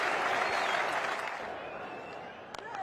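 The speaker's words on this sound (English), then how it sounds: "That sent the Indian portion of this crowd into raptures." The Indian portion of a cricket crowd applauds and cheers Sehwag reaching his fifty. The roar is loud and dense at first, then slowly thins and fades, with a few sharp claps toward the end.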